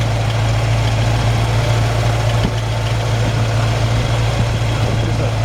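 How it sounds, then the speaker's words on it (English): A 1946 Ford half-ton truck engine idling steadily outdoors, a close, loud, even low rumble with constant vibration throughout and no talking. "Just a really good running engine."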